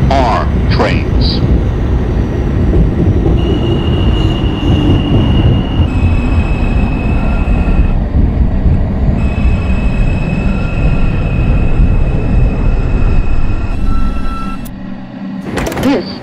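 A Manhattan-bound New York subway 2 train, 7th Avenue express, simulated in OpenBVE, rumbles steadily and loudly throughout with whining electric motor tones that shift in pitch, and a brief bright chime-like sound near the end as the noise drops.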